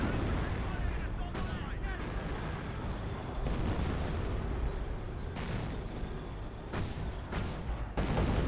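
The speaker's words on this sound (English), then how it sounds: "RF squad and the Rangers firing away" Steady real-time-strategy battle din in Company of Heroes as a squad and Rangers fire on a garrison, a continuous rumble of gunfire and artillery punctuated by several sharp, distinct shots, with a voice talking over it.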